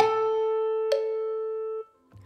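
A single sustained musical half note lasting two beats in a children's rhythm lesson: a clear, pure tone held steadily, struck again once partway through, then fading out before a faint low sound.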